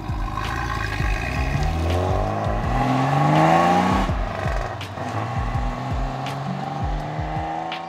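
A car from the 1980s on its first drive, its engine revving and pulling loudly throughout, the pitch climbing and falling through gear changes up close, with no talk.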